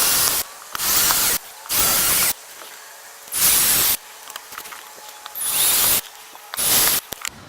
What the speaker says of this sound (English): then you want to go ahead and drill the rest of your holes